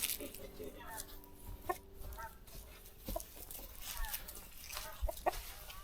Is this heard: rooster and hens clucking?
yes